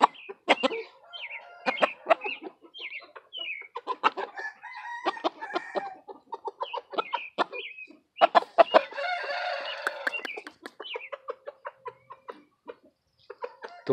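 Several chickens cluck in quick bursts nearby, with a rooster crowing partway through amid the clucks and short pauses.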